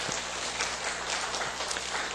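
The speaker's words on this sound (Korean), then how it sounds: "우리 축복의 박수 한번 보내도록 합시다" Congregation at a Sunday worship service gives a blessing round of applause, a steady, dense wash of clapping heard from a moderate distance with no talking over it.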